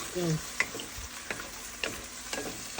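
Food frying in a pan is stirred with a utensil, giving faint sizzling under a few sharp scrapes and knocks spaced about half a second apart.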